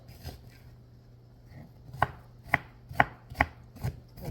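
An onion is chopped with a knife on a board for shepherd's pie, a series of six or seven crisp, close knife strikes spaced roughly half a second apart, with no talk.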